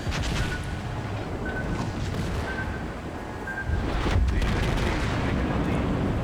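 Naval gunfire from a warship video game, with heavy booming salvos rolling over a constant dense background rumble of battle noise, one louder blast rising near the end.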